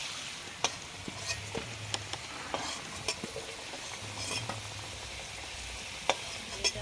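Bay leaves, whole garam masala and dried red chillies crackle in hot oil at the start of a mutton curry cooked in a pot, a soft steady sizzle with occasional clinks of a spoon stirring.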